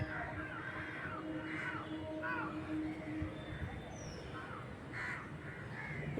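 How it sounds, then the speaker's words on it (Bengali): Crows caw in flight overhead, several short harsh calls spread across the stretch, fairly distant and faint over a steady outdoor background hum with a faint voice. "এই যে কাকা করতে করতে যাচ্ছে"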